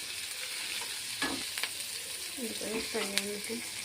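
Green chillies and curry leaves fry in hot oil for tomato rice, giving a steady broadband sizzle with a few brief clatters and short tonal bursts near the end, close and moderately loud, with no talking.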